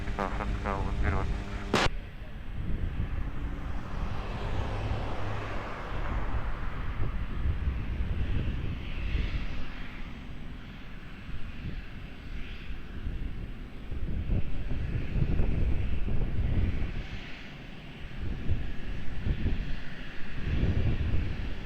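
A jet airliner roars during takeoff at Lisbon Airport, a broad rumbling engine noise that swells and holds, with brief radio speech and clicks near the start.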